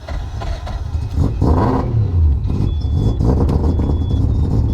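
A rotary-engined car with a T56 Magnum gearbox swap cranks and fires up, catching into a loud, rough, close idle that keeps burbling and blipping unevenly after the start.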